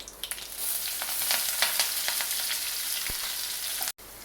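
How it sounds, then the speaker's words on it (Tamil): Chopped onion and green chili hit hot oil with spluttered mustard seeds, a steady close sizzle peppered with sharp pops and crackles, with a stirring clink near the end. "இந்த நேரத்தில் நறுக்கி வச்ச வெங்காயம் பச்சை மிளகாயும் நம்ம சேர்த்துக்குவோம்"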